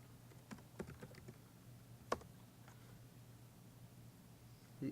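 Faint, sparse keystrokes on a computer keyboard as a command is typed, a handful of soft clicks over a low electrical hum in a quiet room, no voice.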